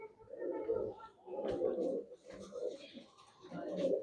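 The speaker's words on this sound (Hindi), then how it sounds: "ये देखो जी माशाल्लाह, इतने कबूतर बहते ने आके खुद ब खुद" Racing pigeons kept by a pigeon fancier coo in soft, repeated throaty bursts at close range, with a voice speaking nearby at times.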